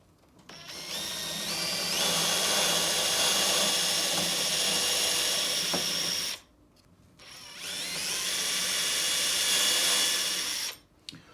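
A power drill bores holes into wooden crossbeam rafters in two loud bursts, the first about five seconds long and the second about four seconds long, each rising and whining steadily, with a short quiet gap between them.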